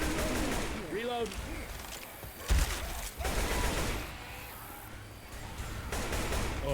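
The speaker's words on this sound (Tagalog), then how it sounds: "Stop shooting me." Gunfire in the co-op video game Left 4 Dead 2, repeated bursts of automatic weapon fire amid game noise, with players talking over it.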